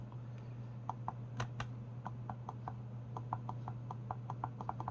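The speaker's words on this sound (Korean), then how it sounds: "일단 키보드를 연결을 해서 움직임도 확인을 해볼 텐데요." Keys tapped on a keyboard hooked up to a Raspberry Pi running MSX, a portable MSX setup, come in sparse then quicker clusters of light clicks over a steady low electrical hum.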